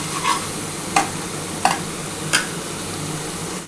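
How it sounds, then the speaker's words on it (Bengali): Spice paste with tomato stir-fried in a pan, a steady close sizzle broken by four evenly spaced scraping strokes of a spatula, with no voices. "আর একটা টমেটো আমি ওপর থেকে দিয়ে দিলাম। এটা ভালো করে মশলাটা কষাতে হবে।"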